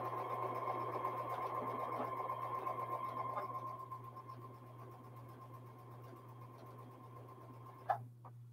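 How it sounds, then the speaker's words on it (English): A sewing machine stitching quilt seams runs with a steady, close mechanical hum and fast needle rhythm, then winds down and stops near the end with a small click. "sew my seams together"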